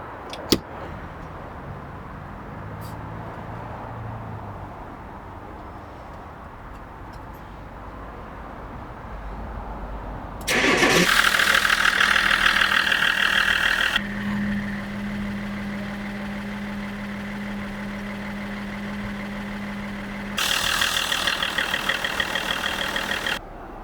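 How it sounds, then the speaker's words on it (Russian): BMW X5 E53 diesel engine cranking and catching partway through, then settling into a steady idle hum, with a louder burst of revving or a fan surge near the end. "И запускаем двигатель, проверяем."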